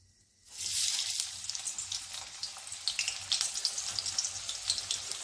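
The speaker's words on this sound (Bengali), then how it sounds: "আমার তেলটা গরম হয়ে আসলে এবার আমি ছাড়বো পেঁয়াজটা" Three chopped onions hit hot oil and burst into a loud, close crackling sizzle after a quiet start, settling into steady frying with popping bursts, for masala chana.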